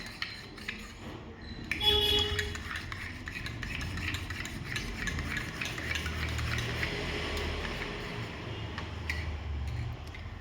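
A spoon stirs homemade ABC malt powder into milk, a continuous scraping, rubbing swirl against the vessel with faint clinks, close and steady.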